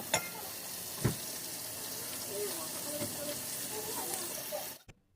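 Onions frying in oil with whole spices for chicken biryani, a steady soft sizzle running under faint background sounds, with a couple of sharp knocks near the start and an abrupt cut-off at the end.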